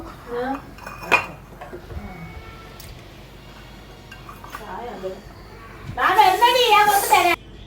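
Pieces of carrot and beans go into a pot of biryani, bringing scattered clinks and clatters of a metal pot and utensils, with a denser burst of clattering near the end while a voice talks between the sounds.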